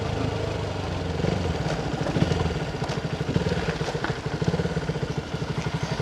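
A KTM Duke motorcycle engine runs steadily up close, a low rhythmic chugging with clattery mechanical texture throughout.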